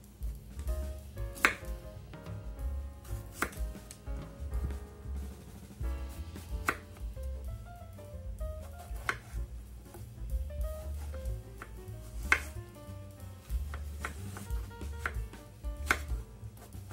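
A kitchen knife chops squash into even dice on a board, making a steady run of sharp close knocks over soft background music.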